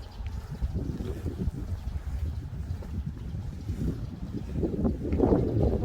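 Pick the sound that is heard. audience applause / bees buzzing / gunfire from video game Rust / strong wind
strong wind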